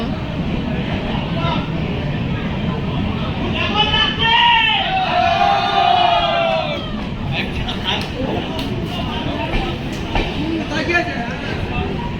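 A large crowd waits on the platform at Ranaghat railway station late at night, a dense steady murmur of many voices with a brief whistling tone rising out of it midway.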